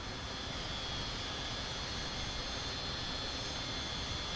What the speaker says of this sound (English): I need to switch on the engine noises.